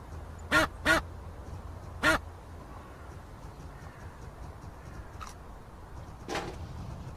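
In Untitled Goose Game, the goose honks in short, sharp blasts: two quick honks, then a third a moment later, followed by two fainter honks over a quiet background of game ambience.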